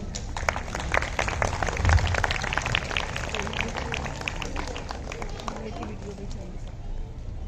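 An audience at a school annual prize distribution ceremony gives a sustained round of dense applause for the school choir. The clapping is steady, with crowd murmur underneath, and softens toward the end.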